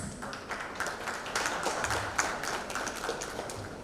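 Audience applause at an awards ceremony, a steady wash of many hands clapping at moderate distance with no voices over it.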